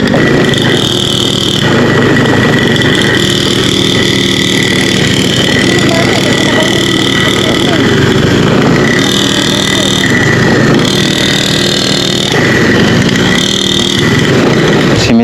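A motorcycle engine drones loudly and steadily, revving hard under strain with rising and falling pitch, close to the microphone, with voices partly under it, on the way to Dampalit Mega Dike.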